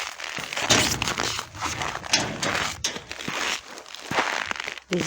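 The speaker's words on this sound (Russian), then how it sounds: "И вот так хрустит снег." Snow crunching underfoot in hard frost outdoors, a series of loud, close, irregular crunching steps with crackly texture that continue throughout, with no talking.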